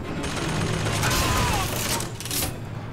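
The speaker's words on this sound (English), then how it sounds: "I hate cannons, those turret things." Turret cannon gunfire in the video game Bioshock Infinite: a rapid, rattling burst of booming shots mixed with mechanical clatter, loud and continuous over the full stretch.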